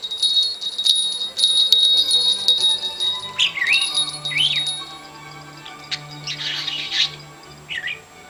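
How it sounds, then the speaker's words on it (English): A pet bird rings a small toy bell on its play gym, giving light jingles and tinkles mixed with its own chirps and calls, fairly close, with no talking. "Ring the bell. You can ring my bell."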